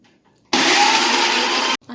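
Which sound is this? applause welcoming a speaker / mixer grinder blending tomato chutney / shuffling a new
mixer grinder blending tomato chutney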